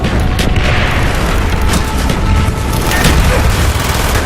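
Constant loud battle din in Call of Duty: Black Ops, with mortar booms and gunfire bursts overlapping into a dense, continuous roar close at hand.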